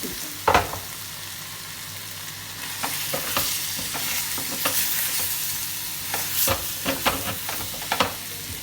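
Prawns sizzle and fry steadily in a pan, with scattered clinks and scrapes of a utensil stirring, close up and without voices.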